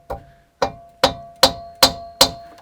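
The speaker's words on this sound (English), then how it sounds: "So I'm going to take the big hammer in, but only some gentle taps." A big hammer giving gentle taps to an engine cylinder head on an Invacar, six evenly spaced sharp metallic knocks, each ringing briefly, close and clear.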